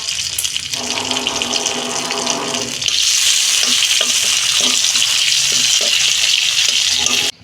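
Dried red chilli and bay leaf tempering in hot oil in a wok, a loud steady sizzle and crackle that rises sharply partway through and carries on with occasional pops, no voices.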